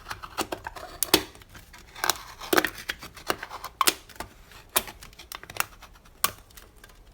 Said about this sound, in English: Now you do want this to cut into the can just a little bit.